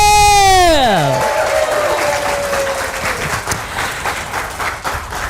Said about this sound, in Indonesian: tepuk tangan dulu buat komunitas Amazing True